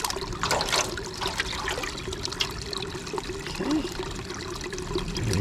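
Fresh clean water from an outdoor aquascape stream trickles and pours into a shallow hatchling musk turtle setup, a steady close splashing flow running throughout.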